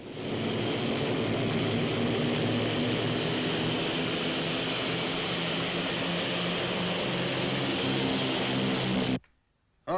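A steady, droning aircraft engine hum fills a radio drama scene aboard a plane. It stays loud and constant for about nine seconds, then cuts off abruptly.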